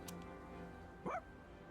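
In Persona 3 Reload, the dog Koromaru gives a single short bark over quiet game background music, clear but fairly soft.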